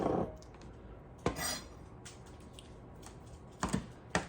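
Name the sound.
cutting up eggs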